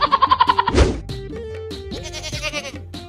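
A goat bleats in quick pulsing bursts, loud and close, followed by more wavering bleats and animal calls at a Bangladeshi livestock sale.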